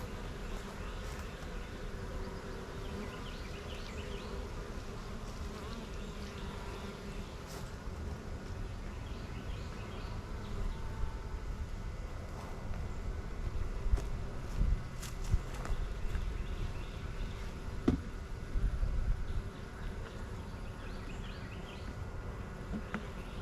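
Honeybees drone around a weak hive outdoors by a tree line, a low steady buzzing with footsteps and faint birdsong in the background.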